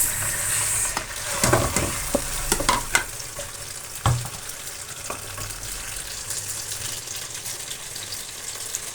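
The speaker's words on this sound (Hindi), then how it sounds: "सबसे पहले हम इसके अंदर ऐड करेंगे प्याज।" Onion hits hot oil in a pan with a burst of sizzling and a few clattering stirs and knocks near the start, then settles into a steady close sizzle with no speech.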